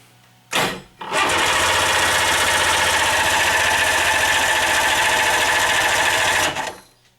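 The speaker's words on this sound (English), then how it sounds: "It doesn't have fuel in it yet, but it will crank over." A 1992 Sea-Doo personal watercraft engine with no fuel cranks over without starting: a brief starter burst, then about five and a half seconds of loud, steady, rapid rhythmic cranking that stops abruptly, close and with no talking.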